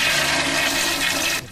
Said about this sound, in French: Il y a même la chasse d'eau.